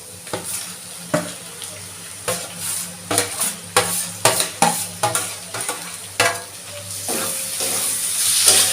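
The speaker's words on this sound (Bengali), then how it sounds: "এবার আমি লোটে মাছগুলো দিয়ে দিচ্ছি।" Bombay duck fish are dropped into a pan of spice paste and stirred, producing a steady sizzle under repeated sharp scraping strokes of a spatula against the pan, close and unaccompanied by speech.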